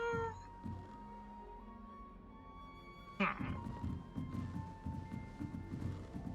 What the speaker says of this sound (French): Il y a un bébé chat!